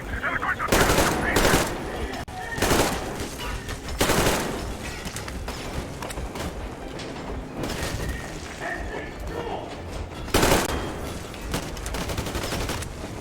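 Bursts of rapid gunfire shooting through a wall in a video game, loud volleys returning every few seconds amid chaotic background noise and voices.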